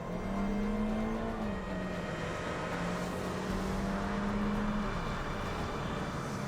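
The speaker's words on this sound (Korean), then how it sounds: "그럼 지금부터 파워트레인 변속기를 바꾼 말리부와 함께 달려보겠습니다" Steady drone of a 2013 Chevrolet Malibu driving, its transmission set to manual, with a low engine hum holding nearly level and continuous road and wind noise throughout.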